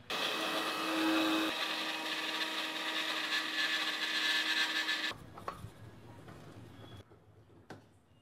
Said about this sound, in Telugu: సో ఇప్పుడు మనం దీన్ని మిక్సీ పట్టేద్దాం.